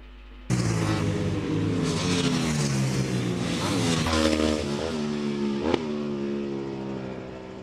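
Racing motorcycles circulate on track at Oulton Park in Cheshire, engines loud and close, revving and shifting continuously as they pass.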